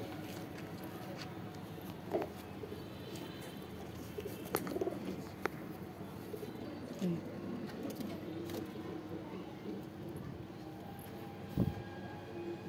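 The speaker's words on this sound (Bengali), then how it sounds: "ভাইয়ের সব কটা পায়রা অসাম গাইজ" Pet pigeons coo softly in a loft amid steady background noise, with a few sharp clicks and knocks and faint low hum, no speech over it.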